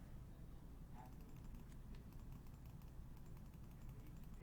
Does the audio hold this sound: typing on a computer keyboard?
yes